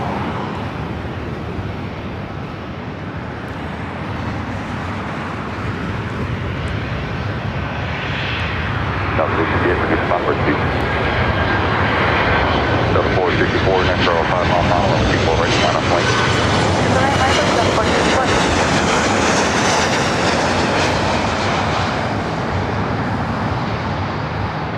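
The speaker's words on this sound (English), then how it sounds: "A350 finally heading into one of the gates" An Airbus A350 jet taxis toward a gate at a busy airport, its engine rumble and whine growing louder midway and staying steady and close, with talk over it.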